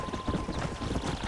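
Horse hooves clip-clop in a quick, steady rhythm while riding in the video game Red Dead Redemption, close and moderately loud over a dense background bed, with no talk.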